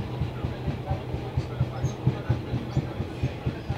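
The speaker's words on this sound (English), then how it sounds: "There's a Grand Central HST." A Grand Central HST train passes close by, its wheels beating out a steady, rapid clickety-clack rhythm over a low rumble.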